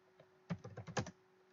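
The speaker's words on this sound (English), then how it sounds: "I'm just typing in the note you just made to me" Brief burst of about half a dozen quick keystrokes on a computer keyboard, close and crisp, in an otherwise quiet room.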